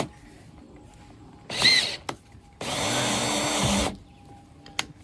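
A power drill bores a hole through a door for fitting a screen door closer: a short burst, then a longer steady whine of over a second, close and loud, with small clicks between.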